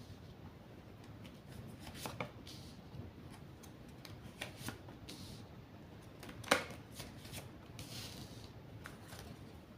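Tarot cards are cut and shuffled close by, giving soft papery riffles and taps with one sharper slap near the middle, over a quiet room with no talking.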